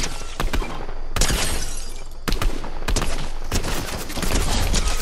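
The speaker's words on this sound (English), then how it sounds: "People still shooting." Gunfire in the video game Fortnite, with dense rapid bursts of shots and sharp cracks crowding one another at close range, loud and continuous, with no talking.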